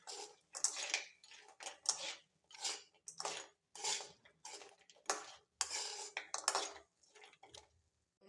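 A spoon stirs bread manchurian in a pan, making repeated metallic scraping strokes in a steady rhythm of close, moderately loud bursts with short pauses between them.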